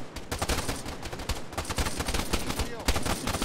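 Rapid, sustained machine gun fire with tracers in ARMA 3, loud dense bursts crackling close by, nearly continuous with brief gaps.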